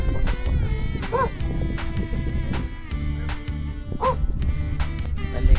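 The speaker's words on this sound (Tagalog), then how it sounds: "Hanggang sa may biglang tumahol na aso." A dog barks suddenly near an old accommodation building on a large agro-park property, two short yelps rising above a busy, loud background of other sounds.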